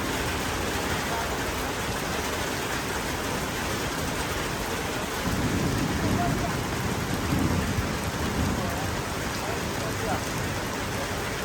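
Heavy rain falls steadily outdoors in Malaysia, a dense, even hiss that swells a little louder partway through, with no talk.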